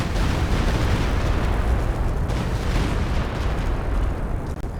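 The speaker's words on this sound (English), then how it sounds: "Here comes the Stuka in the middle." Stuka dive bomber attack in a strategy video game, with continuous roaring explosions and blasts filling the whole stretch at a steady, dense loudness.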